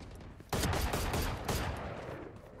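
Gunfire in Valorant breaks out after a quiet half second as a loud, close burst of rapid shots, then settles into a steady barrage that thins slightly toward the end.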